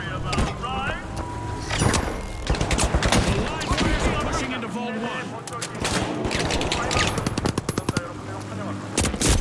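Gunfire in the shooter game The Finals, including a shotgun, with rapid bursts of loud shots and explosive cracks throughout a chaotic match, mixed with game effects and a player talking excitedly.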